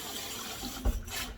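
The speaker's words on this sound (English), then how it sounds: "I've been rinsing them for a couple of minutes" Tap water runs steadily over red lentils being rinsed in a sink, a continuous close splashing wash with a brief heavier gush near the end and no talk.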